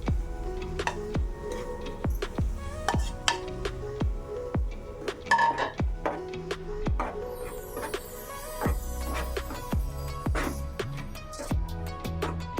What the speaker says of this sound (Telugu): లో ఫ్లేమ్లో మనం దీంట్లో కొద్దిగా పచ్చి వాసన పోయే వరకు కాస్త 5 మినిట్స్ వరకు ఇలా కలుపుతూ ఫ్రై చేసుకుందాం